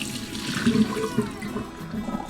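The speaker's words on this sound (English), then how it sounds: "go back to the green onions, drain the water" Water drains from green onions in a short, splashy rush, close and moderately loud, with gurgling swirls over a couple of seconds.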